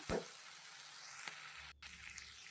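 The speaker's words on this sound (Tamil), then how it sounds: "ஒரு கடாயில் எண்ணெய் ஊற்றிட்டு சுண்டைக்காயை நல்லா வறுத்துக்கலாம்" Turkey berries fry in oil in a kadai, giving a steady, moderately loud sizzle with a few soft clicks and a very brief dropout partway through.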